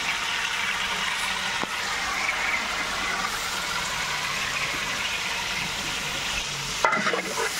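Spices and tomato being stirred in a large pot at a temple festival kitchen for a Hanuman birthday celebration, giving a steady scraping and sizzling texture with a sharp clatter near the end.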